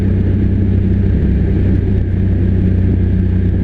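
A 2021 Polaris RZR XP Pro Turbo engine droning loud and close, a dense steady rumble with a throbbing low pulse held at part throttle throughout, no clear rise or fall and no voices.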